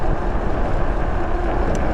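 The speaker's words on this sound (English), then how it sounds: "I hope you can hear me because it's windy" Steady wind buffets a microphone outdoors on a cold, sunny day during an e-bike ride, making a continuous, loud, rumbling roar with no talking.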